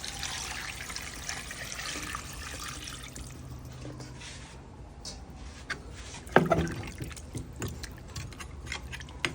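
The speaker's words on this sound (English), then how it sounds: "Now we're just going to add some water." Water is poured into a pot of seared oxtail for an island-style curried oxtail, a steady trickling pour under a sizzling, bubbling background, with a brief sharp clatter partway through.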